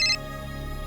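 Phone ringtone ringing indoors in a domestic drama scene, a short bright electronic tone burst that cuts off quickly over a low steady background.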